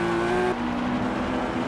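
Lotus Carlton (Opel Omega) saloon in Forza Horizon 3, its engine holding a loud, steady drone that shifts pitch slightly partway through the short stretch of driving.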